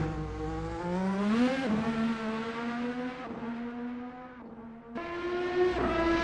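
A Formula NA open-wheel racing car in the VRC racing game screams at high revs, its engine pitch climbing through gears with abrupt shift drops and a brief lift around the middle, loud and continuous.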